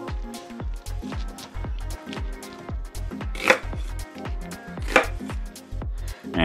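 A knife cuts an onion into half-inch slices on a cutting board, making a steady run of crisp, evenly spaced chops with a few louder cuts, close and moderately quiet, with no talking.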